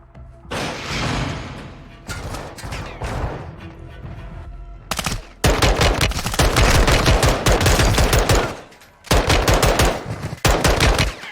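Video game gunfire inside a warehouse: bursts of rapid automatic fire, loud and close, stopping and starting with short gaps between the volleys.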